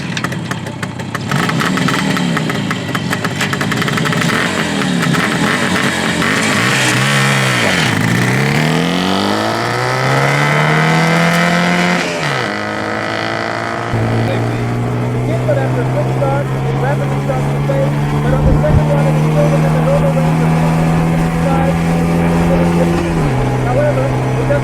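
A restored 60-year-old classic motorcycle engine revs up on a highway, pitch climbing and dropping through repeated gear changes, loud and close, with a voice talking over it.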